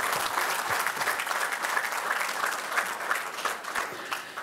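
An audience at an athletics Hall of Fame banquet applauds the inductees, a full, sustained patter of many hands clapping, moderately distant and even, with no speech over it.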